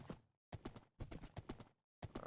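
Horse hooves clip-clop in the blocky survival game Minecraft, modded with GregTech New Horizons, as a steady series of soft thuds in short bursts separated by brief silences.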